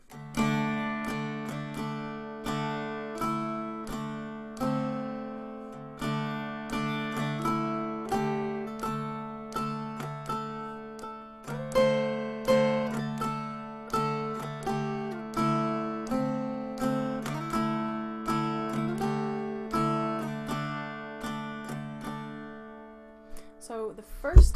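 Mountain dulcimer picking the tune Shady Grove, a steady plucked melody over a droning lower string, close and clear, played through alone with rhythmic note attacks and no talking.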